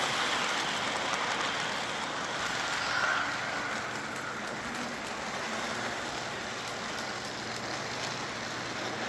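Steady, continuous rumble and whir of a K-Line O27 toy train set from the 1990s Operation Desert Storm starter set running along its track, close and fairly loud throughout with no voices.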